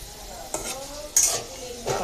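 Chips frying in hot oil in a home kitchen, a close bubbling sizzle with a couple of brief scraping stirs over about two seconds, no voices.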